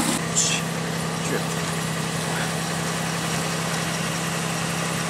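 Pontiac Aztek engine running after a jump start, a steady low idle hum with a constant drone throughout, fairly close, with faint background clatter.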